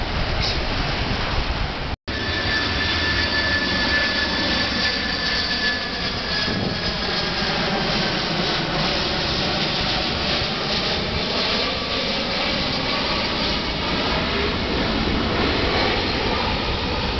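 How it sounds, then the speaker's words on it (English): Passenger airplane passes overhead near a beach on Saipan, a steady broad roar with a slowly shifting whine that swells and lingers, blended with the wash of ocean surf. "Here comes another plane full of Japanese tourists, most likely."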